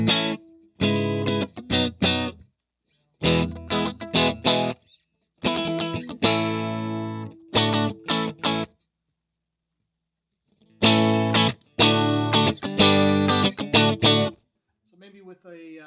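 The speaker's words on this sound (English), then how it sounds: "with a Strat, you're just hearing that clean, spanky tone there" Bright, clean Fender Stratocaster phrases played through a TopHat Rialto Reverb amplifier, in short bursts separated by pauses, loud and close.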